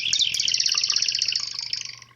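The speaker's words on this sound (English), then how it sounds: "when you pour out of it, it definitely makes a bird type noise" Pouring from a whistling bird sake bottle: bright chirping, warbling tones burble out rapidly for about two seconds, like a small bird call, close and clear, then fading as the flow ends.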